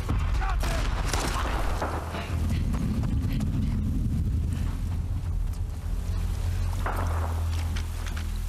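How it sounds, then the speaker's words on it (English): Horse hooves clip-clop in The Last of Us Part II game amid wind and a constant low ambient rumble, with scattered game noises over the steps. "That's just a horse. I thought that was a person."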